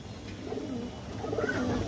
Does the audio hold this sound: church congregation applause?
no